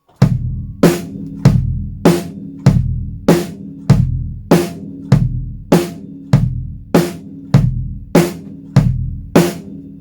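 A drum kit plays a steady bass-and-snare groove, alternating kick and snare hits at an even tempo with crisp cymbal-like attacks on each beat, loud and close with no talking.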